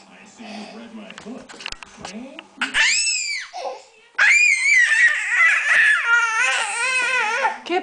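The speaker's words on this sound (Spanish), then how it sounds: "¿Por qué gritas así?" A young child screams and shrieks loudly in bursts indoors, with babbling and high wavering cries between, and an adult voice briefly audible early on.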